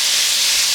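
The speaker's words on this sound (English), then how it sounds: "So we're just going to brown this meat up." Beef chunks browning in a pot for vegetable beef soup give a steady, loud, hissing sizzle, bright and constant through a brief stretch with no talking.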